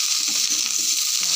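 Green cabbage and other vegetables fry in hot oil in a pan, giving off a steady, close, bright hiss with no pauses and no talking.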